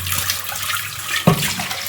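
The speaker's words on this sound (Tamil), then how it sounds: "இந்த பாத்திரத்தை அதே மாதிரி கழுவி எடுத்துட்டு காமிக்கிறேன் உங்கள்கிட்ட." Running water pours over a clay pot being washed by hand, a continuous close splashing rush with a brief knock or clunk partway through.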